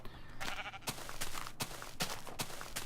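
Repeated sheep bleats from a Minecraft game, a few short calls spaced about half a second apart, fairly close and clear over steady game background.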